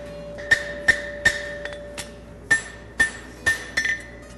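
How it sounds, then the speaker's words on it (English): Metal hammer blows reshaping a Z-bar horseshoe, about ten sharp ringing strikes, some in quick pairs, loud and close with a metallic ping after each hit and no talking. "And then to put it back, it's simply a matter of hammering it back."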